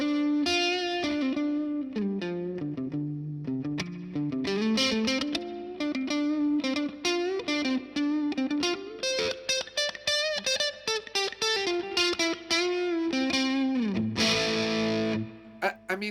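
An electric guitar played through a Boss DS-1 distortion pedal with the neck pickup volume rolled down to 6, a string of melodic distorted notes and chords, loud and sustained, ending on a bending, fading note.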